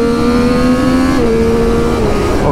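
Triumph Street Triple 765 RS motorcycle engine held at a loud steady rev, then dropping to a lower pitch partway through, continuous and close.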